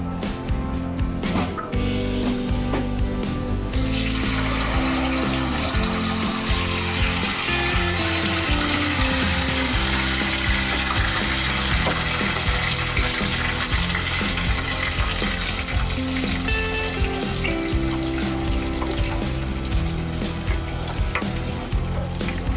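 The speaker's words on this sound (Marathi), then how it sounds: "तेल सुटेपर्यंत जरा टोमॅटो भाजायला पाहिजे ना" Chopped tomatoes fry in hot oil in a pan for a paneer masala gravy, hissing loudly and continuously with a bright sizzle and occasional stirring scrapes up close.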